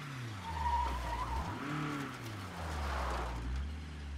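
A car in the video game State of Decay 2 revs its engine and skids with tire squeal, the engine note rising and falling steadily and close up throughout.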